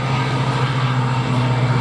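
Vintage propeller aircraft engines, interwar-era fighters and biplanes such as a Gladiator and Corsair at the Duxford air show, droning loudly and steadily with a strong low hum throughout.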